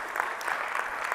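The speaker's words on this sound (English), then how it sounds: "You guys can clap at that." Audience applause at a mastermind event in Puerto Rico, a dense, steady burst of many hands clapping together, fairly close and continuous.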